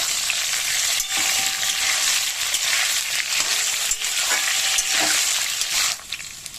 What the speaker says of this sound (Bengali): কাঁচকলাগুলো দিয়ে এই আলুর সাথে ভালো করে ভেজে নেব